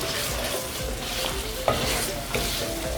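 Chicken pieces stirred in hot oil in a pan for a traditional Dera Ismail Khan sobat dish, a loud continuous sizzle and frying crackle with occasional scraping clicks from the stirring utensil, no voices.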